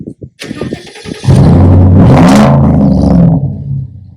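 A Ford F-150's 5.0 Coyote V8 engine with dual exhaust cranks and starts, then settles into a loud, deep, rumbling idle with a brief rev in the middle before easing down.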